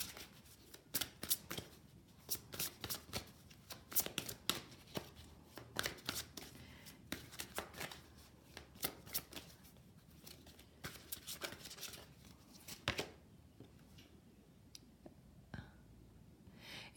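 Oracle cards shuffled for a chakra-themed card reading: a quick run of soft papery riffles and flicks for about thirteen seconds, close and quiet, then a few isolated taps.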